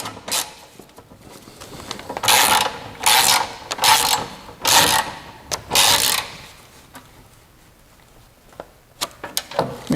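Ratchet wrench tightening the bolts of an ASFIR engine skid plate, heard as several loud bursts of rapid clicking between quieter pauses, close up and with no talking.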